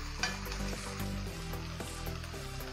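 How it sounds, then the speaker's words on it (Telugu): Spring onions fry in hot oil as the first step of a spicy ketchup chicken and mushroom dish, giving a soft, steady sizzle with light crackles and faint stirring that runs quietly throughout. "స్ప్రింగ్ ఆనియన్స్ వేసుకొని కొంచెం దాన్ని ఆయిల్లో ఫ్రై చేసుకోవాలి"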